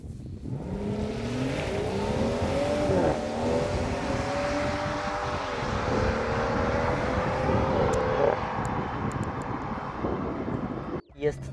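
A BMW M760Li with a 6.6-litre V12 engine revs high, its smooth sustained roar rising and falling through gear changes, loud and near, ending with a sharp pop.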